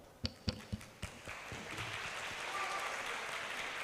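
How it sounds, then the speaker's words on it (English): Audience at a police academy school seminar breaks into applause, starting with a few separate loud claps that swell into sustained, steady clapping from a crowd. "Give yourself rounds of applause."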